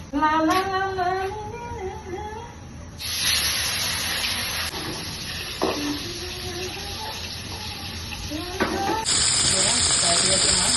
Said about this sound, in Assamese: এয়া মাছ ফ্ৰাই কৰিবলৈ লৈছোঁ